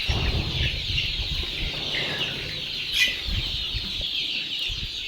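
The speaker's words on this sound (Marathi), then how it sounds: "तुम्ही पाहू शकता पिल्ले कशा प्रकारे हे खाद्य खात आहेत" Young chicks feeding on a mixed feed mash, with a steady soft chorus of close clucking and cheeping, a brief wing flutter about midway, and no one speaking.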